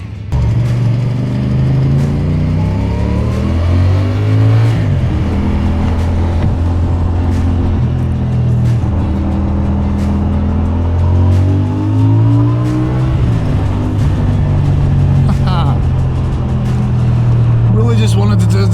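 A CFMoto CLC 450 bobber motorcycle engine revs up and drops back in repeated swells while riding, its pitch sweeping rising and falling under wind noise, loud and close throughout.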